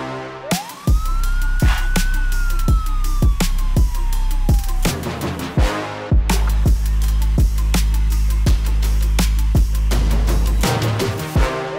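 A Rosemont, Chicago-area police car siren wails loudly and close by, one rising-falling sweep followed by repeated sharp blasts over a heavy low rumble, with no talking.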